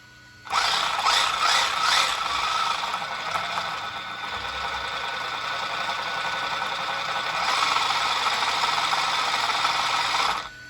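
The brushless drivetrain of an Arrma Infraction 4x4 1/8-scale RC car with a Castle Creations Copperhead 10 setup, running on a 3S pack: a loud, harsh, gritty gear whir that starts abruptly, holds steady with slight surges for ten seconds, then cuts off.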